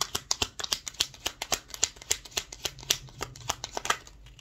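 Tarot cards shuffled close up, a rapid, uneven stream of crisp riffling clicks and slaps running steadily through the whole stretch with no voices.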